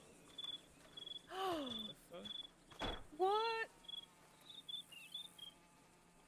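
A person whistles an imitation of a cricket's chirp, a few quick rising warbles between faint background chirps, and a voice speaks briefly in between.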